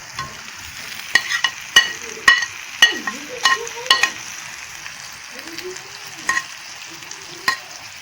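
Eggs added to hot oil and fried for a Bengali egg curry: a continuous crackling sizzle with repeated sharp clicks and scrapes of a spatula stirring in the pan, close and fairly loud, with brief murmured voice sounds.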